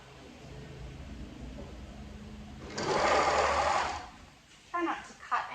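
An overlocker sews elastic onto fabric, whirring in a roughly one-second run that rises out of quiet room noise, followed by a couple of short bursts near the end, with a voice faintly present.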